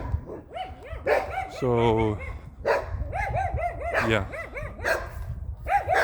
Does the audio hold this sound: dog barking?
yes